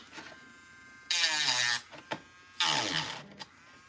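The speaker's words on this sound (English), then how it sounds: "get a Dremel, and just tidy it up a little bit" A Dremel rotary tool buzzes in two short, high whirring bursts of about half a second to a second each while tidying a melted plastic lip on a proton pack build in a workshop.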